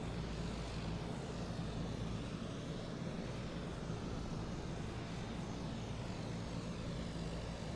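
C-130 Hercules turboprop engines in Microsoft Flight Simulator, a steady droning roar with a constant low hum and whining tones, fairly quiet and unbroken, no voices.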